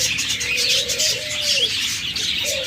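Pet budgerigar pairs call from cages at a bird sale, a loud continuous chatter of warbles and chirps with a clear whistled note rising above it.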